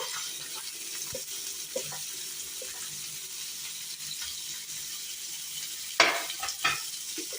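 Chopped onions fry quietly in a little oil in a pan for paneer masala, a soft low sizzle with occasional stirring scrapes and a brief louder clatter near the end.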